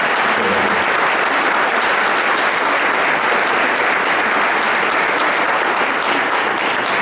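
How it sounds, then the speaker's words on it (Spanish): A conference audience gives strong, sustained applause to a doctor, a dense steady roar of clapping filling the room from start to finish with no talk over it. "les brindemos un fuerte aplauso al doctor"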